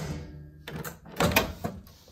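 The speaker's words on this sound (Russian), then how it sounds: "Очень громкий щелчок." An LG MS2042DY microwave oven door closes with a loud mechanical click and rattle, a few close, sharp knocks in quick succession.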